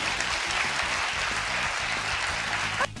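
A studio audience on a talk show claps steadily, a thick continuous wash of hands that stops abruptly near the end, with a low rhythmic tone beneath it.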